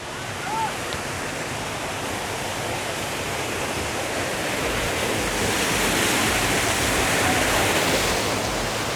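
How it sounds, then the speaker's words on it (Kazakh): A mountain waterfall at the Tau Samaly resort near Taraz, where water from the hills pours down in a dense, even roar that swells slightly over nine seconds, close and loud, with no talk. "Біздегі бұл су төбеден келеді, мына жаққа водопад болып құйылады."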